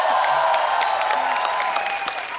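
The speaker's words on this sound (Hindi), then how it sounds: "एक बार मिस्टर अरशद वारसी और मरिया के लिए जोरदार तालियां।" Studio audience applause on The Kapil Sharma Show for Arshad Warsi and Maria: a dense, steady wash of clapping that fills the whole moment, loud and close, with a faint tonal line running underneath.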